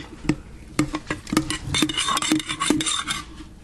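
A spoon stirs a thick sourdough starter in a jar, giving a string of sharp clinks and scraping rubs against the glass in an irregular rhythm, close and fairly loud.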